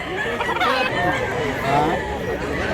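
A crowded pen of chickens and roosters for sale at a Mantalungon, Cebu market clucks continuously in a dense, busy chorus, with a few faint crows mixed in and voices chatting nearby.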